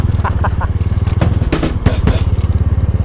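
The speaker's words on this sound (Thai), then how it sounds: "เราก็เอาเวฟคันเดิมคู่ใจนะครับ ขี่เข้าป่าดงพงไพ่" Honda Wave 125 motorcycle riding into a hilly forest, its steady engine drone loud and close throughout, with brief clattering bursts over the continuous motor and no talking.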